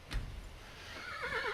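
A horse in the video game Skyrim gives one neigh: a short, loud whinny that rises and then falls away in a wavering, trailing tail, with no talk over it.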